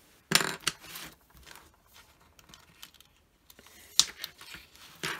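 A craft item package from a Hobby Lobby haul is cut open, giving faint crinkling and snipping with a couple of sharp plastic snaps and rustles, quiet and close with no talking.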